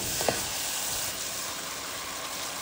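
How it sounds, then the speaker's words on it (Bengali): Rui fish pieces sizzling steadily in hot oil in a pan as they are stirred, a continuous broadband frying hiss with a brief clink near the start, no voices. "সব মাছগুলোকেও এখন দিয়ে দিলাম। এখন সুন্দরভাবে নেড়ে চেড়ে নিব"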